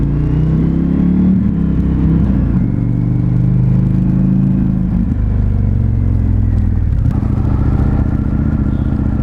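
Indian FTR 1200 S motorcycle riding at speed, a loud continuous engine drone with low rumbling and shifting pitch as the rider changes throttle, close and dominant with wind noise.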